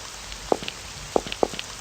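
Rain in the horror video game Amayado Bus Stop, heard as scattered individual drips and taps over a soft hiss, with a few distinct louder drops, fairly faint, no talk.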